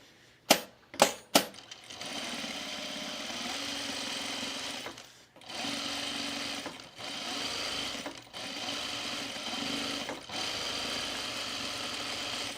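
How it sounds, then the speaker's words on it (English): A sewing machine stitches in the ditch along a seam of Creston jean shorts. After three sharp clicks, a steady motor whir runs in long bursts with brief pauses between them, and no voices are heard. "So now we're just going to stitch in the ditch."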